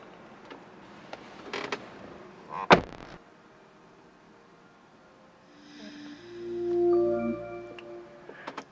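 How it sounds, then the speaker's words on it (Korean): A Renault Samsung QM6 LE door opens with a sharp creak and clunk of the latch, followed by a rising electronic chime and hum as the car's welcome display starts, quiet and close. "자, 문 열게 되면은"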